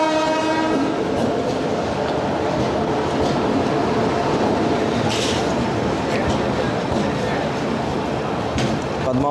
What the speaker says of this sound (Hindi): बाग एक्सप्रेस का अराइवल होने वाला है।